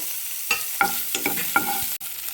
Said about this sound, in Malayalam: നമ്മുടെ തേങ്ങ നന്നായിട്ടൊന്ന് വറുത്ത് വരണം ഈ നെയ്ക്കകത്ത് കിടന്നേ